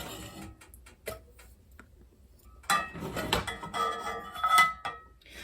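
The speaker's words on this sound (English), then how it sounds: "I'll cover this with the plate I'll use to eat" A plate set down over eggs and steak cooking in a cast iron pan: faint ticks at first, then a short run of light ceramic clinks and a ringing knock against the iron, close by, with no talking.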